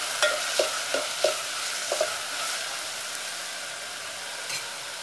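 Onion, tomato and potatoes cooking together in a pan, giving a soft, steady hiss. Several sharp utensil clinks land early on, then a lone tap follows near the end.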